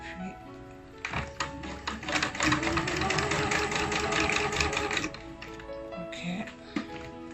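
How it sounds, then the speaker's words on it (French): A sewing machine runs steadily while stitching a scarf, its fast mechanical chatter clear and close, pausing briefly near the end before starting up again, with a voice speaking over parts of it. "Si vous pouvez le coudre en point zigzag ou vous pouvez le coudre en point droit, peu importe."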